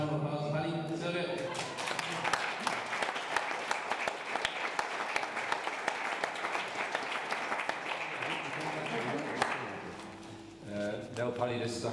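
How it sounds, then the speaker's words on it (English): Room of guests giving a round of applause at a retirement party, sustained dense clapping for several seconds, with voices talking just before and after. "Last round of applause, Paddy."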